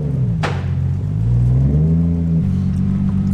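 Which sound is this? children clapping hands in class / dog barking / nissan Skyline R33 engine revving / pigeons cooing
nissan Skyline R33 engine revving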